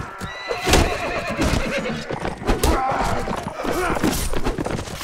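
A horse in the medieval combat game Mount and Blade Warband whinnies loudly amid busy battle noise, with clip-clop hooves and clashing sounds layered over a dense, continuous mix for about five seconds.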